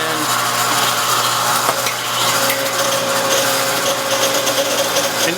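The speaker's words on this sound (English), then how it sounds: "it's time to turn on the machine and see if we can break this spar" A hydraulic testing machine loads a wooden aircraft wing spar with plywood plating, producing a steady, loud mechanical whine and grinding hum with a sustained tone and faint creaks, and no voices.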